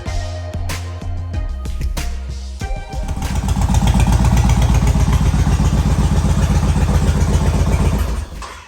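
Yamaha Raider motorcycle engine idling steadily after an oil change, with some clatter and thumps at first, then a loud, even, close-up rumble for several seconds before it fades at the end.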